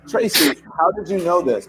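A single sharp sneeze bursts out at a live Oscars viewing party, loud and close, with people talking just before and after it.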